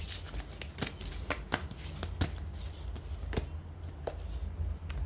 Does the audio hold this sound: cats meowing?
no